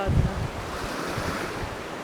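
Wind and surf on a broad open stretch of water, probably a wide river or lake in warm October woodland, with steady rushing wash, low gusty rumble and microphone wind buffeting throughout.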